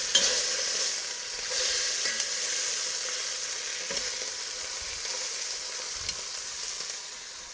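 Beef short ribs searing in a hot pan, a loud continuous sizzle and crackle with occasional stirring or turning sounds, close up and without talk.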